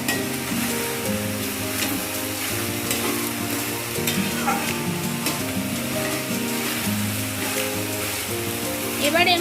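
Water lily stems with turmeric stirred in a hot pan: a continuous close sizzle with repeated spatula scrapes, over a steady tonal hum in the background.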